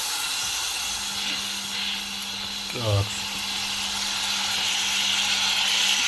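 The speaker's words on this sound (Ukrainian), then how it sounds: "Ось наші реберця. Вони вже смажаться." Pork ribs fry in a pot with a steady, dense sizzling hiss throughout, while a voice briefly says a word partway through.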